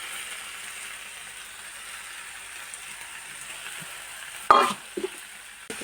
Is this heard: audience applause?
no